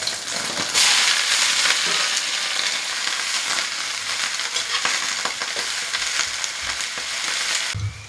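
Rice noodles stir-fried in a pan for dinner, with a loud steady sizzle and repeated scraping of the spatula through the whole stretch, and a brief clatter at the end.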